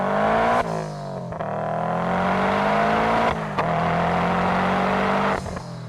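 Steady interior drone of a car driving with road and wind noise reduced by EQ, tonal engine hum shifting slightly between gear changes, close and continuous with no talk.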